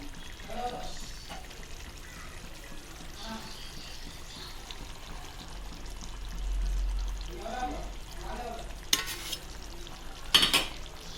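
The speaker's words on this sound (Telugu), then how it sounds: "బాగా తిప్పుకోవాలండి గోంగూర కలిసిన దాకా." Ground gongura leaves being stirred into prawns frying in a pan, giving a soft, steady sizzle with occasional scraping and two sharp utensil clinks near the end, close by, and a voice speaking at times.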